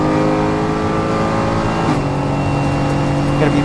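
Mercedes-AMG GT4 race car engine roaring at full power during night practice at the Dubai 24 Hour, a loud, steady harmonic drone from inside the cockpit, with another car passing close by near the end.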